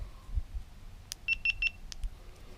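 GoPro Hero 8 Black camera powering on with a short series of about three bright, close electronic beeps, followed by another single chirp, in a quiet room.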